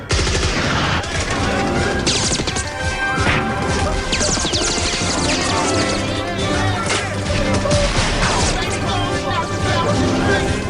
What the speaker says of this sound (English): Stop shooting! Stop shooting! Stop! Stop fighting!